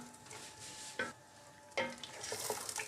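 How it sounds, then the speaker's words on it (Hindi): Finely chopped onions frying for chicken nihari, with a soft, faint sizzle and a couple of scraping stirs against the pot, heard alone and at a low level. "अब इसे भून लेते हैं।"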